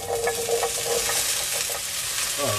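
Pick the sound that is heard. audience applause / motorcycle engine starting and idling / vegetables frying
vegetables frying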